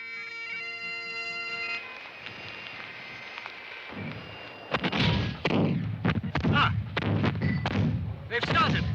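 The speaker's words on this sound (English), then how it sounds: "The rebel cannon have opened fire." Rebel artillery cannon open fire in a battlefield reenactment of the 1745 Jacobite civil war at Culloden, a string of heavy booms and thuds following an earlier tonal ringing passage, with voices mixed in.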